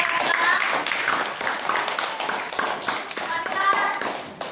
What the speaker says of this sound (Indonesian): berikan tepuk tangan untuk grup